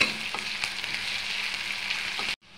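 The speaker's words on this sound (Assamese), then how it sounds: "ইয়াত দি আকৌ এবাৰ ভাজি লওঁ" Chengmora greens with crushed ginger and garlic sizzle steadily in hot oil, a close, bright crackling hiss with small pops, stopping abruptly just before the end.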